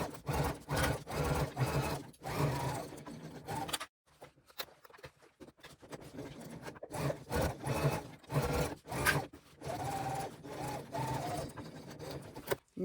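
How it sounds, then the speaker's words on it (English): Sewing machine stitching along the top edge of a vinyl-and-lining crossbody bag, a close, fast mechanical chatter running in bursts with a brief pause partway before resuming, no talking. "We're then going to sew along this top edge at 3/8 of an inch."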